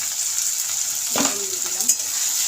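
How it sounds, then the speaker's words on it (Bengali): Tomatoes fry in a pan for a chickpea curry, giving a steady close sizzle with a few soft stirring scrapes partway through and no voices. "এটাকে একটু ভেজে নেব।"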